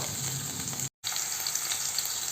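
Okra fries in coconut oil with a steady close sizzle and crackle. A brief silent gap breaks it near the middle, and the frying resumes unchanged.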